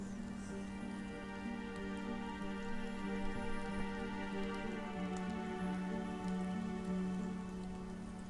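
Steady rain falls outdoors in the Nancy Drew: Midnight in Salem game, a soft, even patter over a sustained musical drone throughout.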